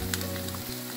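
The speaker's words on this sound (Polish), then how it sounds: "Krewetki smażymy około 10 minut do obustronnego zarumienienia." Shrimp fry for about 10 minutes in hot butter with garlic and parsley, giving a steady close sizzle that runs alone throughout.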